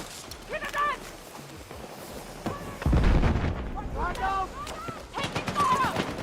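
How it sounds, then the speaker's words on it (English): Grenade explosion in a video game shooter, a loud deep boom at about three seconds amid ongoing gunfire and battle noise, with shouted voices around it. "Grenade!"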